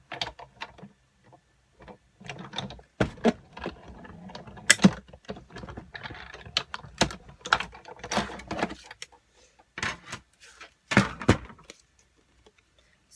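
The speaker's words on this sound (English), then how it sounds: "put that on your Big Shot, and like I said, in the center, more towards the top of your card, and we're just going to cut that right out" Big Shot die-cutting machine cutting a shape from card: irregular close clicks, cranking and mechanical ratcheting knocks, some sharp and loud, spread unevenly over about thirteen seconds.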